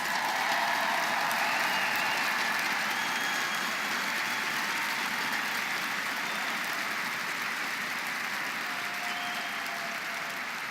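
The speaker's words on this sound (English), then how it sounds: "Please stand up so we can give you a round of applause." Large audience in an upper deck of a stadium applauding volunteers at an orientation, a dense, sustained roar of clapping that fills the whole stretch and fades only slightly toward the end.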